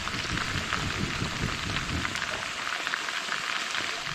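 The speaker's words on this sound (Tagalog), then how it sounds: "tuloy pa rin po ang ulan din" Rain falls steadily outdoors in a dense, even hiss of drops drumming on surfaces, with no gaps across the whole stretch.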